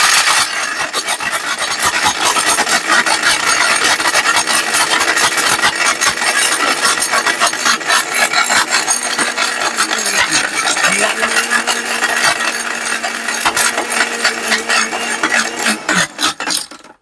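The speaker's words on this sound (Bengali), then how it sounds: "এই দেখেন ইটা দিয়ে দিলাম, দিয়ে শুধু আমি একটু মেশিনটা অন করে দিব" A high-power Niyama blender grinds a hard brick, a loud, continuous harsh grinding and rasping roar with the motor pitch dipping under load, running nonstop close by until it cuts out at the end.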